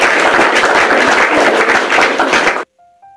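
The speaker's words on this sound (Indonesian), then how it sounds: "Tepuk tangan buat Bunga yang cakep dan manis" Loud, close audience applause at a church talk, dense clapping lasting about two and a half seconds before stopping abruptly, followed by a brief faint tone.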